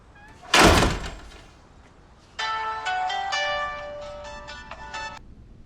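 A mobile phone ringtone plays a repeated bright electronic melody for about three seconds, coming after a loud door slam, with no talking over it.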